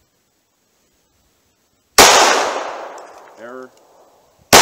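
A pistol fires a single loud shot of cold handgun ammunition, with a sharp crack followed by a decaying echo and a short ringing tail. Another shot begins right at the end of the clip.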